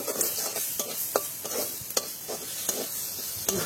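Pumpkin with spice mix frying in a pan for pumpkin chop, a steady low sizzle punctuated by sharp, regular spatula scrapes about every half second to second, no talk.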